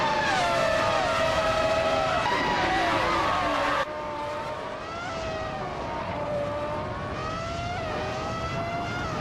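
Ferrari F300 racing car engines in a racing video game scream loudly at high pitch, shifting in tone as the cars accelerate and pass, with a sudden cut to a slightly quieter engine drone partway through.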